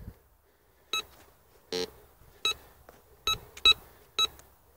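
Nel Tornado metal detector giving five short electronic beeps with a low buzzing tone between them, sounding at uneven intervals as it passes over a buried target during a depth test.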